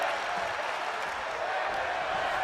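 A wrestling arena crowd in the WWE 2K25 video game chants in a dense, steady roar that carries loud and unbroken throughout.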